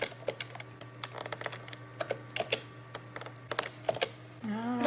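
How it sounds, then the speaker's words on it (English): Keys clacking on a computer keyboard during a slow broadband connection, irregular taps and short bursts close by over a steady low hum, ending in a rising electronic tone. "when I press down the keyboard, it's not reacting straight away"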